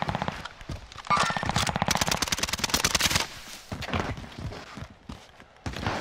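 Rapid automatic gunfire from a Sten-class loadout in Call of Duty: Warzone rattles in a dense burst, followed by scattered shots and quieter game noise.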